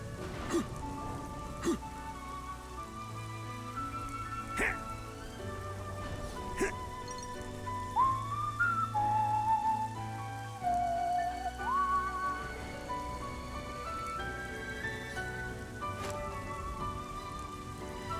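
Steady rainfall hisses softly in Xenoblade Chronicles 3: Future Redeemed, running continuously beneath gentle melodic game music for the whole stretch.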